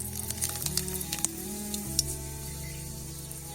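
Dried red chili sizzles in hot oil in a pan, making a steady low crackle with scattered small pops and a couple of sharper spits. The hum of a nearby stove or fan runs underneath.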